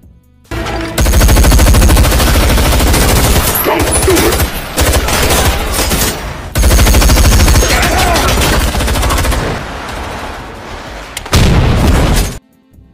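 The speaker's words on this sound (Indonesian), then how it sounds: "hingga terjadilah adegan baku tembak yang menewaskan banyak orang" A gunfire shootout from the film Wrath of Man: loud bursts of rapid automatic fire and booming shots in clusters, with brief pauses between volleys, in a dense cinematic mix.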